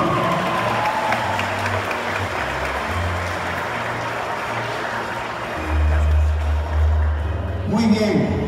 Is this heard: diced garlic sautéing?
no